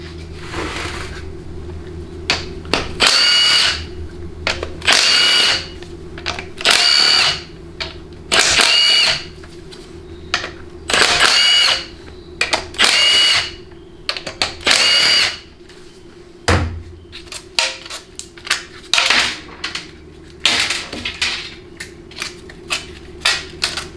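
A power tool spins out the seven half-inch pump-to-case bolts on a Dodge 47RE transmission, in repeated loud, close whirring bursts of about a second each, separated by short pauses, with faint background noise between them.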